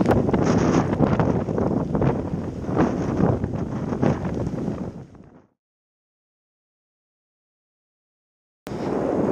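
Loud, gusty wind buffeting a microphone while road cycling on a cold, wet early spring day for about five seconds, then sudden silence before the roar cuts back in.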